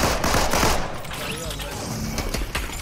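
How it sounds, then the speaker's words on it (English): Rapid bursts of automatic gunfire in a multiplayer shooter game crackle loudly and densely, strongest in the first second, then continuing as scattered shots and impacts while players talk. "Oh, I'm getting shot at."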